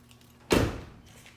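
Door of a 2016 Ford F250 Super Duty pickup truck swinging shut with a single solid, close thunk that fades quickly, heard alone.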